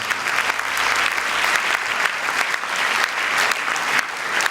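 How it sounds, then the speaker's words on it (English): Sustained audience applause at the Miss Universe Sri Lanka 2011 pageant for the contestants, a dense steady roar of many hands clapping continuously, loud and even throughout. "please give our lovely ladies a round of applause."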